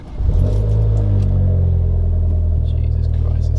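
A classic Mini's engine cranks and fires up, then settles into a loud, rough, throbbing idle with a deep rumble close by.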